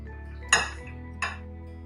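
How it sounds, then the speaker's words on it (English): Cooked lentils being moved into a bowl during vegan meal prep, with two sharp clinks of a utensil against a dish, one louder than the other, over a low steady kitchen hum. "We are also going to transfer the lentils in a bowl as well."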